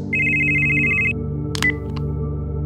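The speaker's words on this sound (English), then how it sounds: "Just then, King's phone rings." A cell phone rings with a single steady electronic trill lasting about a second, followed by a brief clattering burst, against a low background drone.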